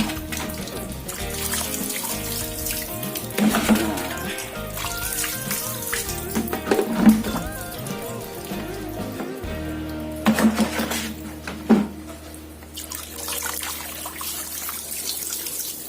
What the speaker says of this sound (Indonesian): Kita siram pakai air bersih lagi, biar makin steril aja.